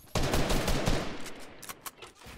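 Gunfire in a Fortnite match, loud and dense: a burst of overlapping shots and blasts crowding the first second, then scattered sharper shots fading out.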